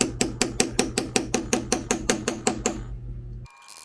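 A hammer strikes a leather punch about fifteen times in a steady, fast rhythm of sharp, close knocks while punching leather for stitching, then stops, leaving a brief low hum.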